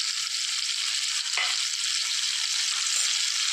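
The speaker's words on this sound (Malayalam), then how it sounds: "എടുത്ത് വെച്ചിരുന്ന തക്കാളി കൂടി ചേർത്ത് കൊടുക്കാം" Tomatoes hit softened shallots in a hot pan for a Kerala-style shallot curry, and a loud, dense sizzle runs throughout, with a brief stirring scrape partway through and no voices.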